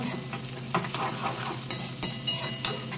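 Chopped onion dropped into a hot pan, crackling and sizzling steadily with a few sharper pops and scraping stirs of a spoon against the metal, close by and moderately loud, no voices.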